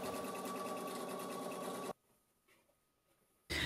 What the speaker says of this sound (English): stitch along the entire length, folding it over the edge of the cap